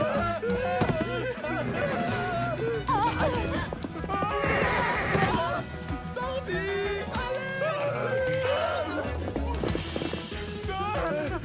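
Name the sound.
horse neighing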